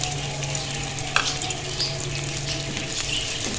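Onion frying in about three tablespoons of oil in a pan, a steady close sizzle with occasional stirring scrapes and one sharper knock, no voices.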